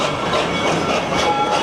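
A park train at Busch Gardens Tampa rolls steadily along its rails, a continuous rumbling clatter with faint squeals, heard nearby and without break across the short stretch.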